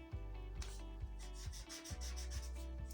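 Pencil drawing short marks along a line on pattern paper, a series of faint scratchy rubbing strokes at an irregular rhythm, close and quiet with no talk.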